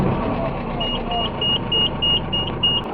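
A Mahindra Bolero tipper's engine runs steadily close by with a droning hum and a faint, intermittent buzzing tone, while people talk over it.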